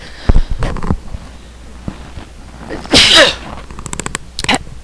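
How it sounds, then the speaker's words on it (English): A loud sneeze bursts out near the mic, set among scattered small clicks and thumps from the surroundings. "had to sneeze quite loudly"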